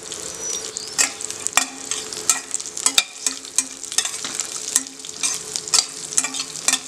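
Crushed cashew nuts fry in a pan, with a soft continuous sizzle broken by frequent sharp scrapes and clicks of stirring, close and alone without talk.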